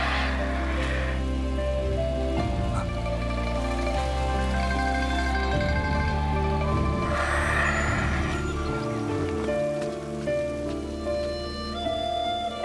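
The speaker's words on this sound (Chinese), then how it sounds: "外面下这么大雨" Heavy rain falls outside in a martial-arts film scene, a steady wash of drops heard beneath a tonal, sustained musical score, with no talking.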